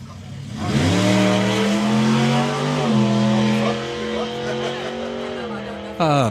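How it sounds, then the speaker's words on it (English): Rat rod car doing a burnout at a drag strip, its engine holding a loud, sustained tonal roar that shifts pitch a few times, close and continuous, with a sharp burst at the end. "Besides doing fabulous burnouts"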